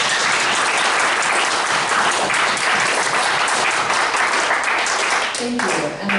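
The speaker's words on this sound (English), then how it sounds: "So can I have a round of applause?" Loud, continuous round of applause from a symposium audience, filling the clip, fading slightly near the end as a voice starts to talk.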